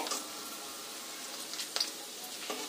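Paneer cubes frying lightly in a pan make a soft, steady sizzle, broken by a few sharper pops and spatters near the end.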